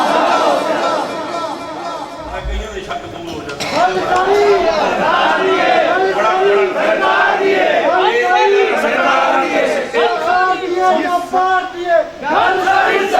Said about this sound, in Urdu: نعرے تکبیر، نعرے رسالت، نعرے حیدری، نعرے تحقیق، نعرے غوثیہ